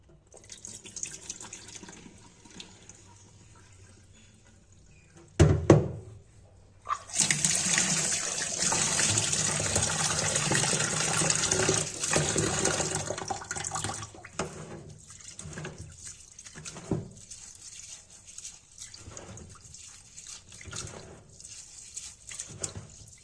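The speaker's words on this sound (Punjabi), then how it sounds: "ਚੰਗੀ ਤਰ੍ਹਾਂ ਚੌਲਾਂ ਨੂੰ ਜਦੋਂ ਤੱਕ ਪਾਣੀ ਸਾਫ਼ ਨਹੀਂ ਹੋ ਜਾਂਦਾ ਉਦੋਂ ਤੱਕ ਆਪਾਂ ਇਹਨਾਂ ਨੂੰ ਧੋਂਦੇ ਰਵਾਂਗੇ" Water splashes and sloshes as rice is swirled and rinsed by hand until the water runs clear, with a sustained burst of running water in the middle and intermittent drips and swishes.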